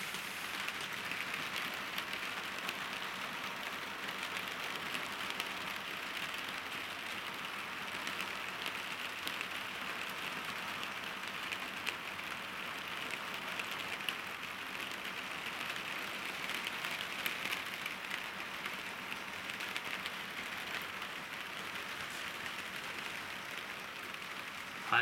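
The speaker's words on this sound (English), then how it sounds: "So you can hear what it sounds like to live in the tiny house during rain and snow." Steady rain drums on a tiny house roof overhead, a dense continuous patter and hiss that holds evenly throughout with no voices.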